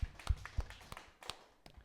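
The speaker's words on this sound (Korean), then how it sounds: "하나님께 영광 박수 돌려드리겠습니다" A church congregation claps briefly during a Sunday worship service, a short scatter of quiet, uneven claps heard from a distance that fades within two seconds.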